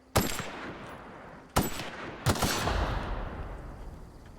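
Three separate gunshots in The Outer Worlds, each a sharp loud crack followed by a long reverberant decay, the second and third closer together, with no voices.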